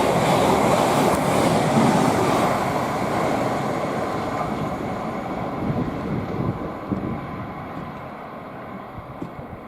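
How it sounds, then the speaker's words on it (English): Class 700 electric train, unit 700-057 on a service to Ely, passing through Potters Bar station on the East Coast Main Line, a loud rushing roar with wind buffeting that slowly fades as it goes by. "we've got a service to Ely, worked by 700-057, with another nice tone"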